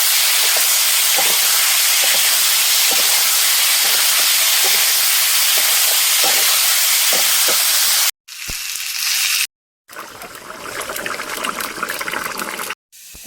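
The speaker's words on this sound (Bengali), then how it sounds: "এখন চলছে আলু কষানো" Potatoes being sautéed in a pan hiss and sizzle continuously in hot oil, a loud close steady frying sound broken by a few abrupt cuts.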